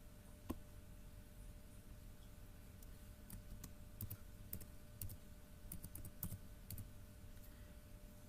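A password is tapped out on a computer keyboard in quiet, irregular keystroke clicks, some in quick clusters, heard close over a faint steady background hiss.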